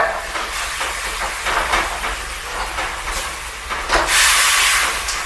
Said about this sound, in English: Now I just keep stir frying